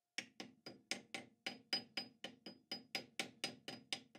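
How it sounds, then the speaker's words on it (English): A soft nylon-faced hammer taps a casting to seat it in the chuck of a small Boxford lathe, about seventeen evenly spaced light knocks in steady rhythm, close and clear with nothing else heard. "I always give it a bit of a tap with my very soft nylon faced hammer, just to make sure that the casting is seated properly in the chuck"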